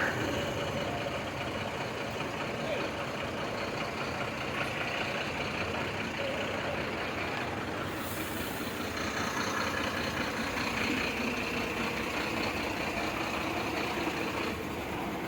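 Heavy traffic jam on the road at Ratnagiri near Vellore, with trucks and buses idling and rumbling in a steady dense roar, a faint reversing beep now and then, and no voices.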